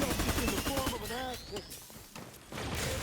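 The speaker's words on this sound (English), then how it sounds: "now we hear a gunfire going off, so we're going to head back in here" Gunfire in the multiplayer shooter Lawbreakers, bursts of shots and thuds mixed with game effects and a rising whine, fairly faint and busy, then a short lull before the action swells again.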